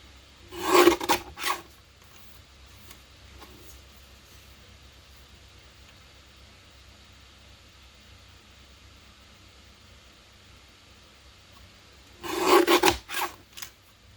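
Paper card edges being trimmed during card making, two short bursts of rasping cutting, one near the start and another near the end, with near-silence in between.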